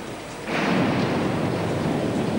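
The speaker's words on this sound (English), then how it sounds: "it's another clap of thunder above our heads" A deep rumble of thunder swells suddenly and rolls on loudly over steady rain at a weightlifting competition.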